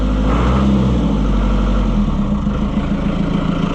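A White 700 tractor engine runs steadily after sitting unused for a month, its rough low rumble rising briefly as the throttle is revved, then settling back to a loud, continuous idle close by.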